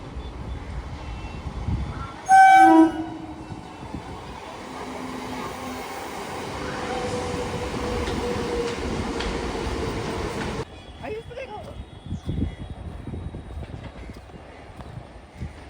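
A local train passes through Bagnan station, a loud steady rumble of rolling wagons with a sharp horn-like tonal blast early on, the roar cutting off abruptly and leaving quieter station ambience and rattles.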